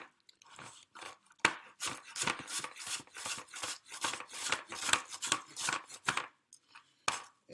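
Knife slicing ingredients for a vegan chickpea tuna salad on a cutting board: quick, crisp chopping strokes in rapid bursts, close and clear, with brief pauses between runs.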